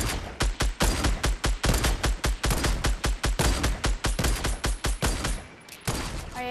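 Loud, continuous gunfire in a video game, rapid shots pounding steadily for several seconds with no pause, then a brief dip and a last few softer shots.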